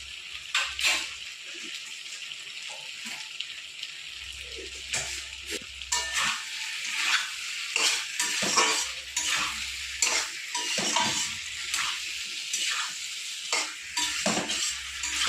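Fish curry with taro and potato sautéing in a pan, a steady sizzle broken by repeated stirring scrapes and utensil clinks, close and fairly loud with no voices.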